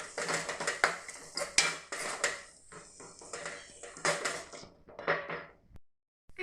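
Spoon scraping and clinking against a pan while curry is mixed with garam masala, irregular close-up taps and stirring scrapes that stop briefly near the end.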